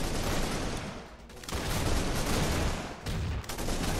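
Sniper and other gunfire in the shooter game Arsenal, heard as a dense, loud barrage of shots with a couple of brief lulls, filling the whole stretch without talk.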